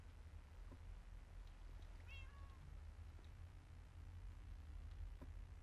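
A cat meows once, briefly and faintly, in the video game Minecraft, set against a steady low hum of background noise.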